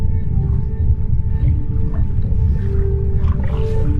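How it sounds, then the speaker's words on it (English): Underwater humpback whale song: long, drawn-out moaning tones with rising and falling cries over a deep, continuous rumble of ocean background, loud and unbroken. "The humpback whales that fill the oceans with their haunting song"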